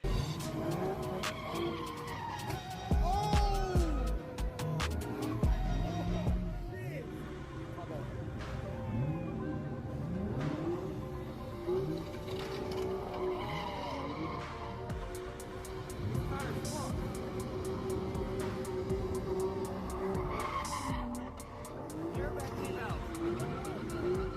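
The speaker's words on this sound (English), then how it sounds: "a guy goes with a Nissan, bangs its rim. It actually goes into the sidewalk." A Nissan car skids with repeated squealing tire sweeps, and its rim strikes a sidewalk with a thump early on. The sounds carry through a busy street scene with voices and crowd noise throughout.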